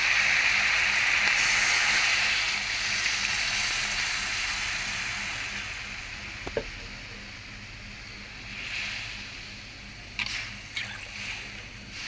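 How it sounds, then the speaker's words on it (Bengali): Broth poured into a hot pan of fish curry sets off a loud, steady hiss and sizzle that slowly subsides, with a few clinks of a utensil near the end. "এখন আমি ঝোল দিয়ে দিব।"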